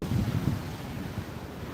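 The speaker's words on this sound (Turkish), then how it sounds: "Sahilde daha coşkulu dalgalar var." Waves breaking on the beach at Side by the ancient Apollo Temple, a steady broadband wash of surf with a low rumble, mixed with wind buffeting the microphone, heard alone.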